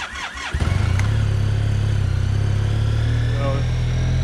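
Four-stroke engine on a homemade cross-country ski trail groomer cranks briefly, then catches and settles into a loud, steady close-up running rumble.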